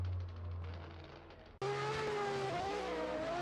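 An RTR Mustang and a BMW drift car racing bumper to bumper, engines revving hard with a sudden loud surge as they pass close, held at high revs with shifting pitch.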